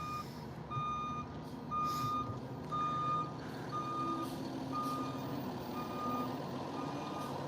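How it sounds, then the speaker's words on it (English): A garbage truck reversing sounds a steady series of high, evenly spaced electronic beeps, about one per second, over a low diesel engine rumble. It is heard from a moderate distance, with no talking. "The dumpster truck. It's beating the hell out of this."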